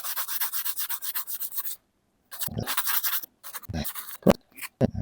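Close, steady sanding of a car bumper: rapid back-and-forth rasping strokes in bursts, broken by short pauses and a few light taps.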